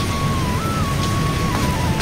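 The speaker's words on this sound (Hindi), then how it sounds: "बहुत तेज़ बारिश हो रही है।" Heavy rain pours steadily outdoors as a dense, constant hiss that fills the whole moment without any pause, with a faint steady tone running underneath.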